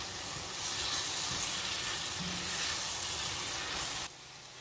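Shrimp and vegetables for shrimp fajitas stirred together in a hot pan, giving a steady close sizzle and hiss that runs throughout, then drops sharply near the end.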